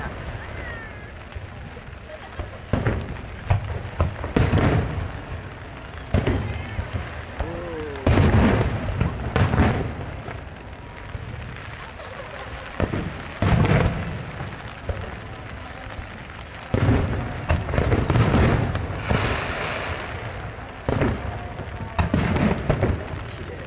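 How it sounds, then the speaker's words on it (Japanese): Fireworks boom over Lake Biwa in the rain at a large lakeside display, with repeated heavy bursts spaced a few seconds apart, some clustered, while people nearby chat between the blasts. "なんか雨の中の花火もなかなかや。"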